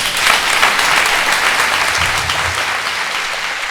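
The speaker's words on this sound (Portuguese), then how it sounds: "Então vamos aplaudir Jesus aí." A church congregation applauds steadily, a dense, continuous wash of many hands clapping that holds at an even level for several seconds with no voices standing out.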